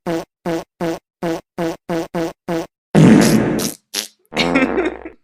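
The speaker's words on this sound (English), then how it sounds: "I just want to take that video and recreate it with farts." A rapid series of eight short, evenly spaced fart noises, followed by a few longer, sputtering ones, loud and close with nothing else in the background.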